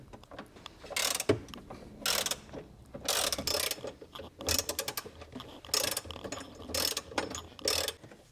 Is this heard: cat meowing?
no